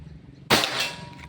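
One crisp, close report from a Pajero Gun Gen 6 air rifle being tested for accuracy, a loud metallic crack that decays quickly, with no voices over it.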